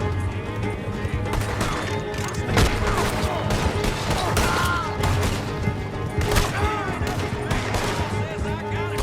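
Gunfire rattles through a Red Dead Redemption 2 shootout, with repeated close, sharp shots over horse hooves clattering and a busy game soundscape, and voices briefly heard.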